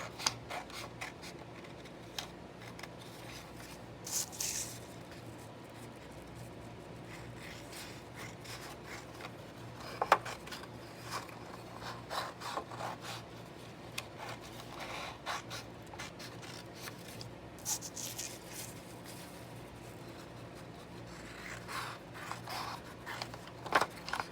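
Scissors slowly cut strips of paper that will become the warp of a simple loom in a grade-school art lesson. Quiet snips and rustles come at irregular intervals, faint and close, with no speech.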